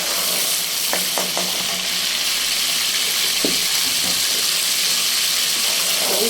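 Garlic and ginger paste fries in a pan with a loud, dense, continuous sizzle close by, broken by a few scraping stirs of a spoon.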